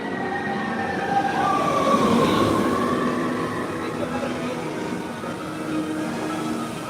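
The Tron Lightcycle Run ride train at Magic Kingdom passes by with a loud, sweeping rush and a rising whine, over park crowd noise and faint voices.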